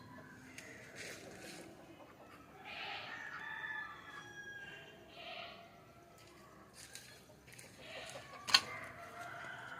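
Free-range country chickens in a coop at morning cluck and call softly, with a rooster crowing faintly amid quiet outdoor ambience and one sharp knock near the end.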